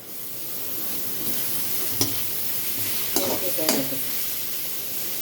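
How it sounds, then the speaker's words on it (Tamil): Carrot and cabbage sautéing together in a pan, a steady close hiss of frying with a few soft scraping stirs of a spatula over the top, no voices. "கேரட்டு, கோஸ் ரெண்டுத்தையும் ஒன்றா போட்டுக்கலாம். வதங்கட்டும்."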